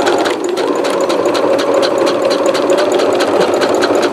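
A sewing machine stitches through two layers of blackboard fabric at close range, its rapid rhythmic clatter and motor whir continuous throughout, no talking.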